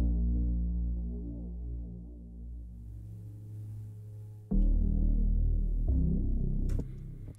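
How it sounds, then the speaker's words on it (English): Synth bass melody played on the Ghoul bass patch, heavy and throbbing with sustained low notes, shifting to a busier, brighter phrase halfway through, with no other sounds. "And so here's what my bass melody sounds like for this."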